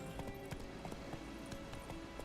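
Horse galloping in the video game The Witcher 3: faint rhythmic hoofbeats thud steadily under a dense, noisy game soundscape, brief and low in level.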